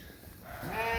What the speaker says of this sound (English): we have all the replacement ewe lambs in this group here